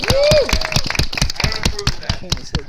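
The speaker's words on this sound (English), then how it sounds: "Give Frank Tieri a round of applause, everybody, right over here" An audience at a comics convention panel claps and cheers for a comics writer, sharp scattered claps with a voice talking over them at the start.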